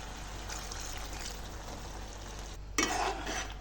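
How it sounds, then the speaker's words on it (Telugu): Water poured into chicken curry with meal maker in a pan and stirred, a soft simmering hiss followed by a louder splashing, scraping stir near the end. "కొద్దిగా చికెన్ ఉడకాలి కదా ఫ్రెండ్స్, అందుకే వాటర్ వేస్తున్నాను."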